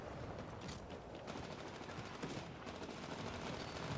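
Rapid gunfire in the video game Titanfall, a dense, continuous crackle of shots at a moderate distance, steady throughout with no pauses.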